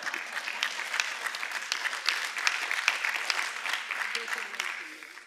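An audience at a university board meeting bursts into sustained applause, steady clapping of a large crowd for about five seconds.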